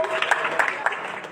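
A church congregation applauds during a sermon, a dense wash of clapping hands with voices mixed in underneath, steady and moderately loud throughout.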